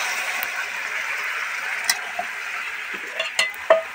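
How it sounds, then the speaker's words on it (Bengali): Water poured into a frying egg and soybean curry, a continuous hiss of sizzle that turns into a few louder bubbling bursts and clatters near the end, close by, with no speech. "এবার দিয়ে দিচ্ছি জল।"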